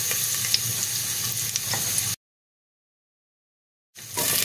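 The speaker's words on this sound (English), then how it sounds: "When the oil is hot enough, first thing we put in is our star anise" Star anise and ginger sizzling in hot oil, a steady close frying hiss with faint stir clicks, cut by a couple of seconds of silence before the sizzle resumes.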